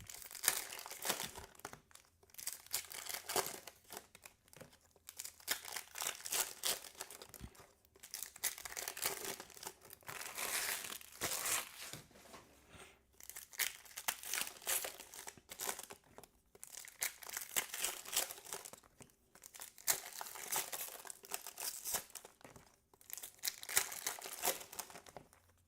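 Crinkly foil wrappers of Pokémon Surging Sparks booster packs crackle and tear open in repeated bursts, close and fairly loud, with short pauses between packs and no talking.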